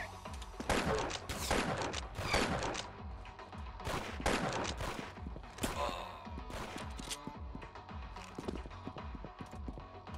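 Rapid gunfire in the Roblox game Arsenal, bursts of sharp clustered shots repeating through the clip, fairly faint, with no talk over it.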